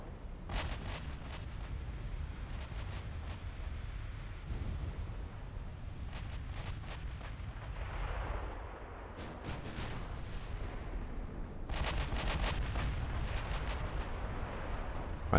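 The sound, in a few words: battleship gunfire in video game Ultimate Admiral Dreadnoughts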